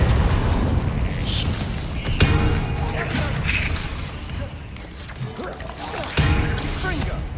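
A Repulsor spell cast in Hogwarts Legacy lands with a sharp, booming blast over mechanical clatter, and more impacts and crashes follow amid dense game effects, while a voice speaks over the action.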